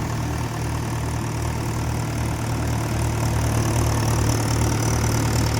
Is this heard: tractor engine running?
yes